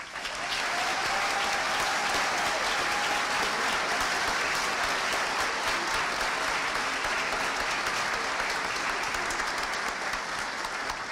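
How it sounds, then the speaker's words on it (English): An audience at a nursing school pinning ceremony gives faculty and staff a sustained round of applause, dense even clapping filling the hall for about eleven seconds without speech. "Please let's give our faculty and staff a round of applause."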